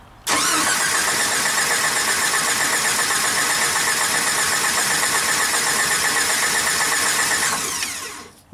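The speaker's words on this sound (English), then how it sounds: "that's when you're going to stop turning over the motor." A Jeep Wrangler YJ engine being cranked over by the starter during a compression test, a loud rhythmic churning that holds steady for about seven seconds before cutting off, with no talk.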